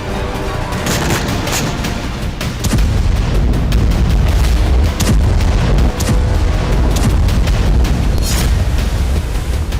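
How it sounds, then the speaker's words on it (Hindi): Explosions from an Israeli army bombardment of Gaza at night roll together into a dense, continuous barrage of loud booms and rumbling blasts. It grows heavier partway through, with no voices. "इजरायली सेना ने गाजा पर अब तक का सबसे बड़ा और प्रचंड बारूदी प्रहार कर दिया"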